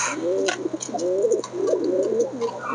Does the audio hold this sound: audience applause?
no